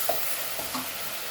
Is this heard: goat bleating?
no